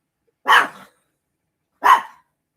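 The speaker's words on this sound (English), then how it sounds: "He wants to bark at that stupid cat." A dog barks twice at a cat, sharp loud single barks spaced more than a second apart, with silence between them and no talk.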